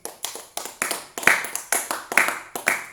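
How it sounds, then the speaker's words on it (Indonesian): A small group of classroom students claps in loose unison, about a dozen close, sharp claps over a few seconds, with no talking. "Tepuk tangan dulu."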